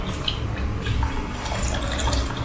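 Water pours into a pot of browning lentils for creamy daal makhani, a steady splashing, bubbling flow with soft drips and low gurgles, close and continuous, no talking.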